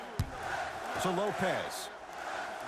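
Arena crowd noise from the basketball video game NBA Live 23, Cavaliers versus Pacers, rolls as a steady roar beneath a commentator's voice, with a brief thump near the start.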